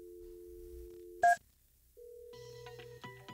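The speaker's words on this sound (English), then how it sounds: "call is ringing on a physical phone as well as a soft phone" A physical desk phone and a softphone on a private PBX phone system ring together: a steady electronic tone, a short sharp chirp, a pause, then further ringing tones layered over one another, all fairly clear.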